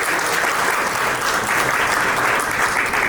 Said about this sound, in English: Please clap him and welcome him here.